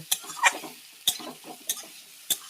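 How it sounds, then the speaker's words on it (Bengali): Radish frying in oil with black cumin is stirred with a spoon in a pan, five or six sharp scraping strokes spaced evenly over a soft background sizzle. "এবার মূলোটা দিয়ে দিয়েছি এবার মূলোটা এরমভাবে কন্টিনিউ নাড়ব"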